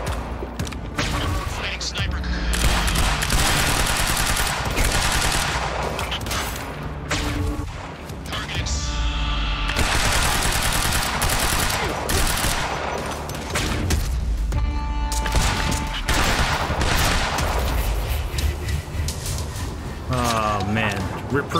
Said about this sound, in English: Shoot the explosive barrel!